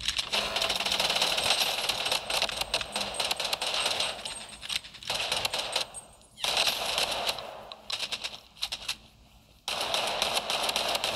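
Gunfire from the video game Bloodstrike rattles in rapid automatic bursts, dense and crisp, separated by a few brief pauses, with no voices over it.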